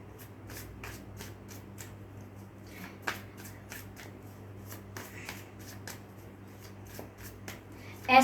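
A tarot deck shuffled by hand in a quiet room, a run of crisp, rapid card riffles and taps repeating at an uneven rhythm, close and fairly soft over a low background hum.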